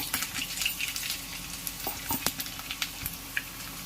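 Chopped onion and slit green chili fry in hot oil for mutton kuzhambu, a steady sizzle with crackles and small pops close up, no talking.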